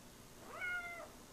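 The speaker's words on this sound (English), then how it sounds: "The cat!" A house cat lets out a single short meow, rising and then falling, quiet and alone against faint room noise.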